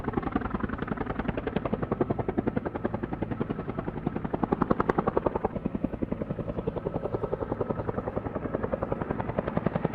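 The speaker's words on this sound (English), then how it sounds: "For the first time ever, a plane landed on a helicopter pad." A small plane landing on a helicopter pad, heard as a steady rhythmic rotor-like engine thrum throughout, loud and close with no talk.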